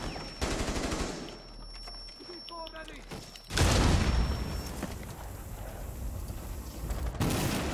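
Rapid bursts of automatic gunfire and heavy booming shots in the Rainbow Six Siege video game, loud and sustained throughout, with a player's voice speaking over the shooting.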